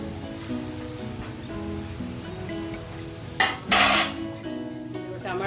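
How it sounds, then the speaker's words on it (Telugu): Cauliflower, coriander and curry leaves dropped into a pan of shrimp curry, with a steady sizzle under clinking of a utensil against the pan and one short loud clatter partway through. "ఇప్పుడు మనం మిగిలిన ఇంగ్రీడియంట్స్ అన్నీ వేసేద్దామండి కాలీఫ్లవరు కొత్తిమీర కరివేపాకు"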